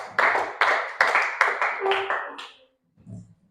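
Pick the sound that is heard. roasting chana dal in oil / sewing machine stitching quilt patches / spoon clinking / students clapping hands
students clapping hands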